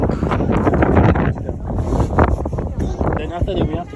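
Gusty wind buffets the microphone in loud, rumbling bursts, with voices faintly mixed in.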